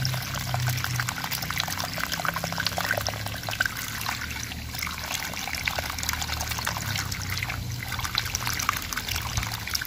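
Water pours steadily from a manually drilled 5-inch PVC pipe well, a continuous trickling, splashing flow heard close and alone for the whole stretch.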